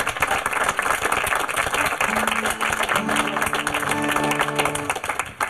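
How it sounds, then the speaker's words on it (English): A crowd claps loudly and continuously for a band at a live country music performance while sustained musical tones rise underneath partway through. "give this band a round of applause"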